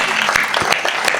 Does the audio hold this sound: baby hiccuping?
no